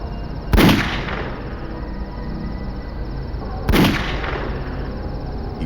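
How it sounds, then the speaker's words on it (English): Two loud, sharp gunshots ring out about three seconds apart, each with a short echoing tail over a low background hum. "He fired 2 shots into Gunnarson's head"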